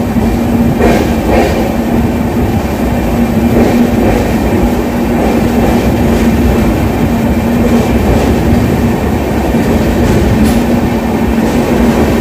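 The Mysore Jaipur express running on the rails, heard from inside: a loud, continuous rumble with a steady rhythmic clatter of wheels over the track.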